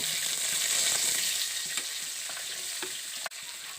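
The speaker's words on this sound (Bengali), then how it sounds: "এবার ওই তেলের মধ্যে আমি আলুটাকেও ভেজে নেব" Steady oil sizzle of frying potatoes, fairly loud and close, with a few light scrapes and a sharp knock near the end.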